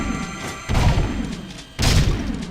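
Gunfire at targets on a shooting course in Jak II, two heavy booming shots with a gap between them, loud and close over a steady game background hum.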